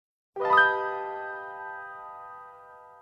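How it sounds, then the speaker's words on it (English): A doorbell gives one clear ding-dong chime at moderate loudness. Its bright tone rings on and slowly fades with no talk over it. "the doorbell may go ding dong in about 10-15 minutes"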